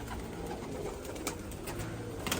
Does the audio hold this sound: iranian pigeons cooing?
yes